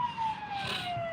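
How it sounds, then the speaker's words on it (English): Emergency vehicle sirens pass outside in a brief, steady wail that carries through the space. No one talks over it. "y'all hear the sirens"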